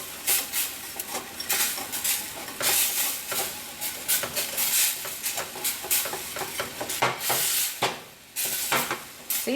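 A chicken sauce with stock bubbles in a pan while a spoon stirs and scrapes against it, giving a steady hiss with repeated clinks and scrapes at close range and no talking.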